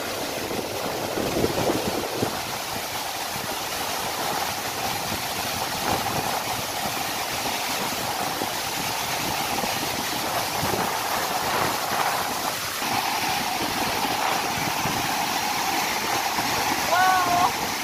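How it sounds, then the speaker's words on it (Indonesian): Efrata waterfall in Indonesia roars as a steady, broad rushing wash of falling water, loud and continuous throughout, with strong wind buffeting and voices talking over it. "Dan ini asli ya teman-teman, air terjun Efrata"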